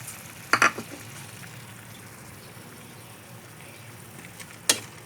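Onions going into a pan for Filipino dried adobo, with a soft steady sizzle throughout and a couple of sharp clatters near the start and one at the end.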